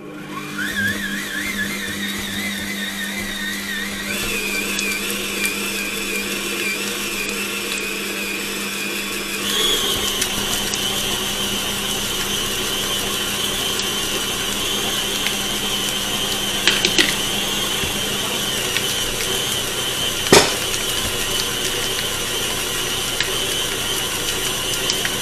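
A kneading machine works bread dough for a soft bow-tie loaf, a loud steady motor whine with grinding, ratcheting gear noise that shifts pitch partway through and carries on with occasional knocks.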